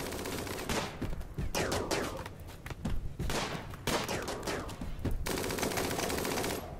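Dense bursts of automatic and rapid gunfire during a raid on a base's inner defences in RimWorld, volleys of overlapping shots firing almost continuously, loud and close, with only brief gaps.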